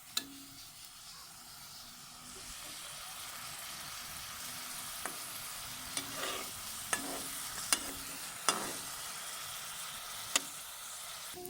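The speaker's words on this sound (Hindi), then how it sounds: "अब हम इसको जब तक लाइट ब्राउन नहीं हो जाता तब तक पकाएंगे।" Sliced onions fry in a pan for a ginger-garlic curry, giving a steady soft sizzle with occasional sharp clinks of a spoon stirring against the pan, close by and fairly quiet.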